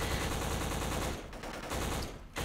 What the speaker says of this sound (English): There's a lot of gunfire in this game.